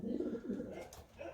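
Racing pigeons in a loft, young and older birds, giving soft low cooing calls that swell and fade over a steady murmur, close by.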